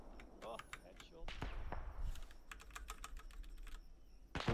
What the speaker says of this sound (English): I'm typing right now.